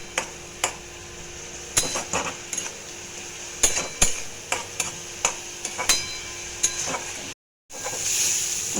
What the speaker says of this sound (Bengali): দিয়ে মশলাটাকে ভালো করে ভাজা ভাজা করবো।